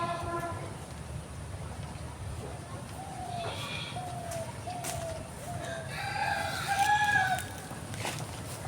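Hens cluck repeatedly nearby while a rooster crows, over a constant background rumble.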